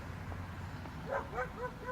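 A small dog shut in behind a car window gives a series of short yips and whimpering barks, about four in quick succession, faint and muffled under a steady background rumble.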